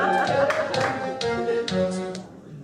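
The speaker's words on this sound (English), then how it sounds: "You can cheer if you want." A live audience at a comedy game-show stage event cheers and claps in a loud, continuous burst of crowd noise, with shouts and applause rising and falling over a few seconds.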